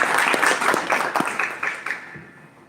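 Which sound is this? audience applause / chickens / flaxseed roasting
audience applause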